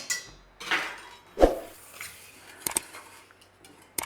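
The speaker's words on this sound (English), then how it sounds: "Give that a little mix through there" Flour and salt being mixed in a bowl for Dutch baby pancake batter, with a few scattered utensil clinks and scrapes against the bowl, moderately close and alone, no talking.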